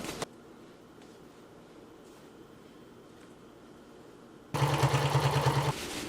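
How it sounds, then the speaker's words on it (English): A sewing machine stitching a fabric seam for a patio chair cover runs for about a second in a loud, rapid mechanical whir, after a long stretch of quiet room tone. "I'm gonna press this down and then we're gonna sew it."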